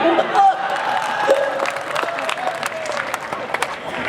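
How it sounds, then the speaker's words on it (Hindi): Scattered applause and murmuring crowd noise rise at a poetry recital in Udaipur, fairly soft and uneven, with a voice and crowd sounds mixed in. "कुबेर सिंह जी ने पहली बार ताली बजाई।"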